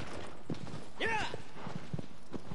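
Hooves of a horse in the video game Shadow of the Colossus clip-clop in a light, uneven rhythm at moderate distance, with a brief high whinny-like sound in the middle and faint talk around it.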